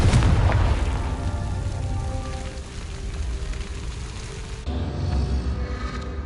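A Confringo spell explosion in Hogwarts Legacy on PS5 bursts with a loud boom at the start, then fades into a long crackling, rain-like rumble that swells again near the end.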